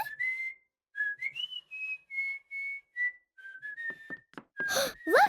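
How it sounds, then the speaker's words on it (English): A cartoon character whistles in the dark to keep calm, a wavering tune of short, clear notes with brief pauses, close and fairly soft, ending in a few louder breathy bursts. "He's whistling, so he won't be afraid of the dark."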